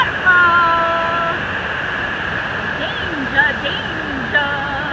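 A waterfall along a rocky Torres del Paine trail in Patagonia gives a steady, moderate rushing hiss throughout, with a voice exclaiming over it.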